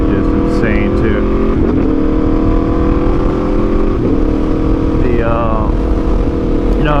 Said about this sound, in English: I like that it's a V4. It's got that beefy sound to it, kind of like the R1 and the Ducatis